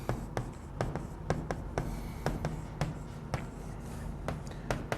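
Chalk or marker writing answers on a board in a chemistry lesson taps and scratches in quick, irregular strokes, close and fairly quiet.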